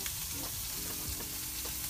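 Rabbit belly sizzles and crackles quietly in a frying pan, a soft, continuous hiss with small pops and no talking.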